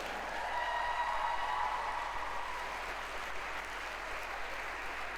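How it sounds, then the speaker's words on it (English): A crowd applauds Cardinals pitcher Joe Kelly at a team caravan stop in Rolla, Missouri, with steady, dense clapping that holds for several seconds before easing slightly. "How about a nice hand for Joe Kelly?"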